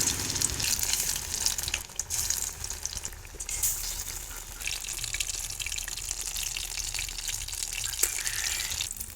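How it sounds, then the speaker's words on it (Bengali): Bean chops sizzle steadily in hot oil in a wok, a close, continuous crackling hiss with no talking. "এই যে আমি আগেতে তেলটা গরম করতে দিলাম, এবারে সিমের চপগুলো কড়াইতে দিয়ে দেবো।"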